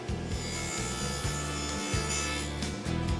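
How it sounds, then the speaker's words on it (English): Table saw fitted with a dado blade cutting a shallow recess into a wooden drawer front, a steady loud motor drone with the grinding rasp of the wood cut running continuously, slight dips as the workpiece moves, no talk. "With a dado blade installed, butt the workpiece against the rip fence and make a single pass."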